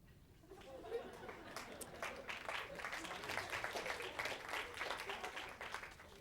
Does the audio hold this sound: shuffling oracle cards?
no